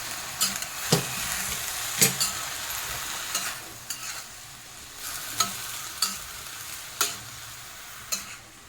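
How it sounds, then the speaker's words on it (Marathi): Fenugreek leaves sautéing in a pan for a methi bhaji with moth dal are stirred in a steady low sizzle, with about a dozen sharp spatula scrapes and knocks spaced unevenly over it, close and fairly loud, with no talk. "असं वर खाली करून घ्यायचं आहे आपण"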